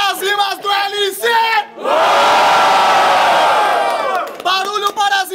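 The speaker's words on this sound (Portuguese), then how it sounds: "Barulho pras rimas do LC!" At a rap battle final, a crowd erupts in a loud, sustained roar of cheering and shouting lasting a couple of seconds, framed by a host's chanted shouts before and after.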